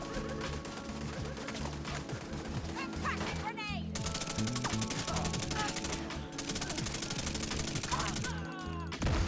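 Chatterbox SMG fire rattles in The Division 2, long rapid automatic bursts broken by short pauses, close and loud over a busy combat soundscape.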